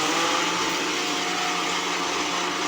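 An electric mixer grinder grinds roasted gram dal and pirandai (adamant creeper) with a loud, steady motor whir and rattle, close and continuous for the whole stretch.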